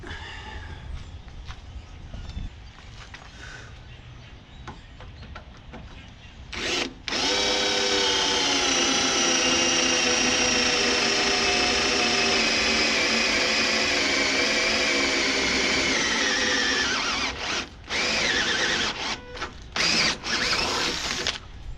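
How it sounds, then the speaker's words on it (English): Power drill with a sharp bit boring through a metal trailer guide pole: a quiet start, then a loud sustained whining grind that holds for about ten seconds before slowing, stopping and restarting in short bursts. "that's what happens when you have a nice sharp drill bit"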